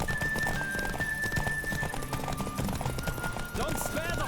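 Horse hooves gallop in a fast, steady clip-clop in The Witcher 3, with a whinny breaking through near the end; the sound stays loud and continuous throughout.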